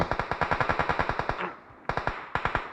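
Rapid automatic gunfire in an online shooter game, a fast burst of evenly spaced loud shots that breaks off briefly, then resumes in two shorter bursts, heard alone without voices.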